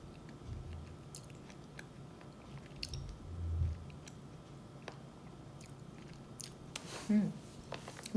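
Soft chewing and crunching of food, close and quiet, with intermittent small clicks and a brief voice in the background.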